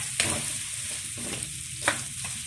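Squash sautés in hot cooking oil with a steady sizzle, broken by a few short scraping stirs of the pan, close and moderately loud with no talking.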